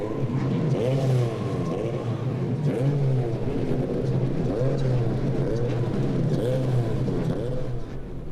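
Several Mazda Road to Indy open-wheel race car engines at the Indianapolis Motor Speedway start up and rev together in a steady, loud, overlapping roar, with repeated rising and falling revving sweeps across the whole stretch.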